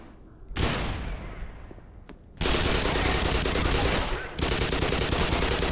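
Sustained automatic gunfire from enemies in Black Mesa, loud and close: a long dense burst, a short gap with a few single cracks, then another continuous volley running to the end.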